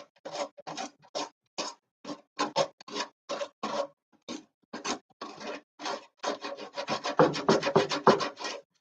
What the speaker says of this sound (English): Is it bad that I'm not sure if the sandpaper is making it better or worse?